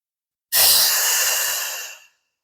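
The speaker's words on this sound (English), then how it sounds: "Breathe in." A single deep breath drawn in and let out slowly, close and clear, with no other sound around it.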